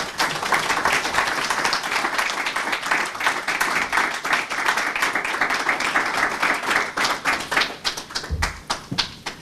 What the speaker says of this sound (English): Ladies and gentlemen, let's have another round of applause for Mr. Jeffrey Armstrong.